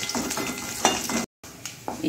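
Jackfruit seeds and other chutney ingredients dry-roast in a pan over a low flame, giving a steady close crackle with scraping stir strokes and a brief dropout partway.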